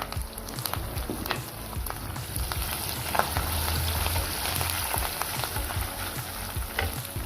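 Ginger, garlic, green chillies and curry leaves frying in oil in a pan for a date pickle, a steady close sizzle with crackles and occasional stirring scrapes, no voices.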